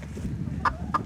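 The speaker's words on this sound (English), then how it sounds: "These are our BB Red Old English game hens" BB Red Old English game hens give two short, soft clucks about a third of a second apart, close by, over a steady low background rumble.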